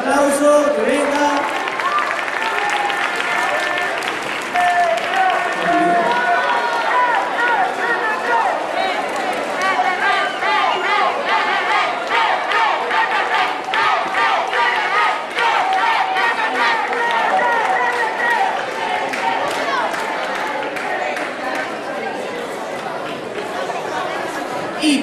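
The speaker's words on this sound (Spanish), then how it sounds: "Lo animamos con un fuerte aplauso" Crowd at a scout festival award ceremony, with dense chatter, shouts and scattered clapping forming a continuous loud hubbub through the whole stretch, while voices call out over it.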